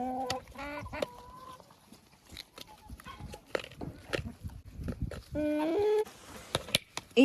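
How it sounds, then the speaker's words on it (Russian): Young Crested Dominant Czech hens cluck and murmur close by as they eat freshly pulled grass. A louder rooster-like call rises near the end. "Это курочки молодые, которые сейчас очень-очень хорошо несутся."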